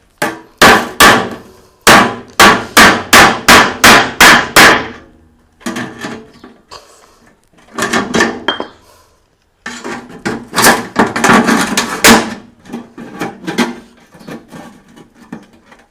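Snips cutting the sheet metal of an empty oil tin, heard as bursts of sharp metallic clicks in quick rhythmic runs with short pauses, close and loud, with no talk.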